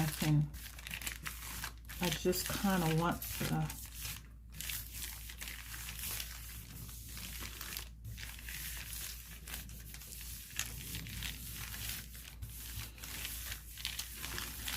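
Tissue paper crumples and crinkles in close, irregular bursts while someone talks over a gel plate printing session, pulling a ghost print.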